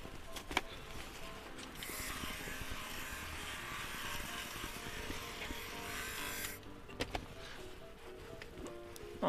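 An electric fabric shaver runs across alcantara, a steady buzzing whir for about five seconds with faint clicks and handling noise before and after, and no speech.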